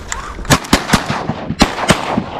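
Several hunters fire shotguns at teal ducks on a private farm, a close, rapid burst of roughly eight loud overlapping bangs within a couple of seconds.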